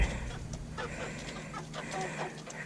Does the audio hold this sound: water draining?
no